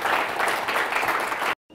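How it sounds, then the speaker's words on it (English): An audience at a campus pitch competition applauds in a dense, steady burst that cuts off abruptly, with no voices over the clapping. "let's give them a round of applause"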